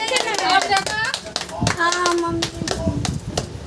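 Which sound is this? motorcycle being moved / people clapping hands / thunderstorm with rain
people clapping hands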